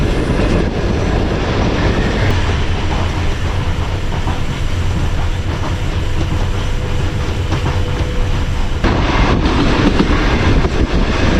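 The Mianwali Express runs on rails between Lahore and Mianwali, heard from on board as a loud, continuous rumble with rhythmic wheel clatter that shifts in tone near the end; no voices.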